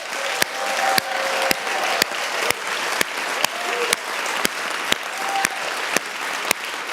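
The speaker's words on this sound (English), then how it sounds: "Let's just end with a big kind of releasing energy round of applause." An audience at a community summit gives a round of applause at the end of a morning session: steady, full crowd clapping throughout, with sharp regular thumps cutting through at roughly half-second intervals.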